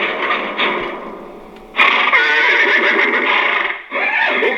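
Horses being loaded neigh loudly and close, one long shrill whinny followed by another after a short gap, with fainter stirring sounds between calls.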